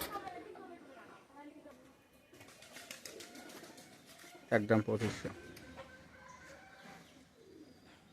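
Pigeons coo softly in the background while someone talks over them through most of the stretch, with a short louder burst of sound partway through.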